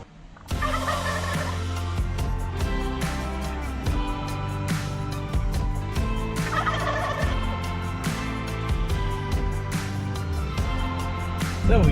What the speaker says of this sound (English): There are turkeys everywhere.